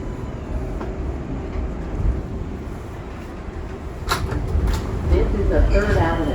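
An R142A 6 subway train runs toward 3rd Avenue-138th Street with a steady interior rumble and some clanks and rattles, while a voice speaks over it.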